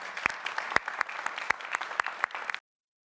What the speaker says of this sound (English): An applause for Felipe.